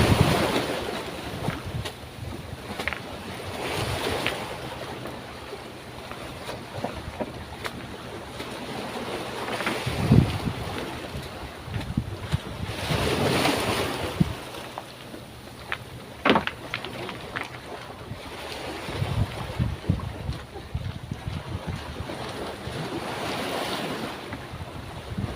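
Sea waves and wind wash steadily around a small fishing boat out at sea, with broad rushing surges and gusts of wind noise rising and falling throughout, no voices.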